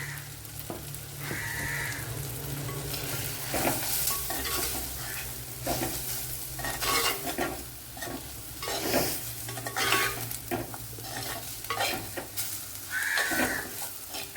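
Chili powder and turmeric stirred and frying in a pan for a fish curry, a steady close sizzle with scraping spoon strokes throughout.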